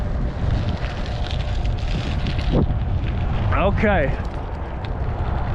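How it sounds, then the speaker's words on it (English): Strong wind buffets the microphone while cycling against a headwind on a gravel road in North Gainesville, Texas, a loud, constant rushing roar with a brief spoken word near the end. "We're still going against the wind though."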